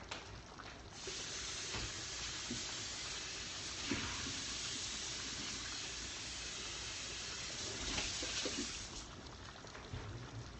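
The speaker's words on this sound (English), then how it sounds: "I'm gonna rinse this and put it in the thing real quick." Tap water running steadily into a kitchen sink while food is rinsed for a beef and broccoli dish, a close, constant splashing hiss lasting about eight seconds before easing off, with no voices.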